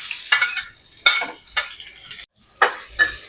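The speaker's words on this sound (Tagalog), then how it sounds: "gigisa na naman natin yung bawang at sibuyas" Garlic and onion sautéing in a pan, with a soft sizzle under several sharp, separated scrapes and clinks of a utensil against the pan, close up and without talk.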